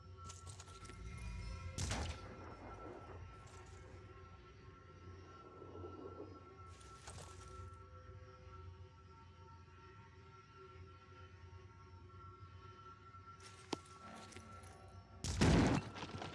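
Gunfire in the tactical video game Phoenix Point comes in a few separate bursts over a low, quiet ambient bed, with the final burst the loudest and closest.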